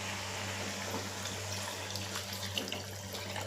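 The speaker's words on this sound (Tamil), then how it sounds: "இதுக்கு தேவையான அளவுக்கு தண்ணி ஊற்றிக்கிறேன்" Water pours steadily into a cooking pot holding drumstick pieces, a continuous close rushing splash that lasts throughout with no voices.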